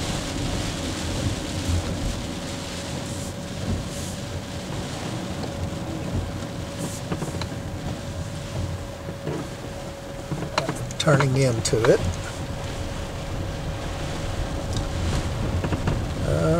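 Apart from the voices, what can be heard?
heavy rain and wind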